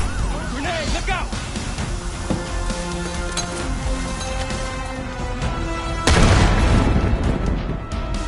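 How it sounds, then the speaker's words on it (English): Grenade explosion in Black Ops 6 campaign combat, a sudden loud broadband blast near the end bursting over dense gunfire, sirens and battle noise, with shouting voices throughout. "Grenade, look out!"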